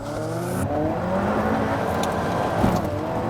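Alfa Romeo 4C coupe pulling away hard under launch control, engine revving and climbing in pitch through a steady acceleration, heard from a moderate distance with constant road and wind noise, no talking.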